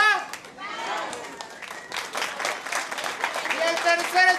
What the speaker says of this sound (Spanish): necesito rápidamente 3 aplausos.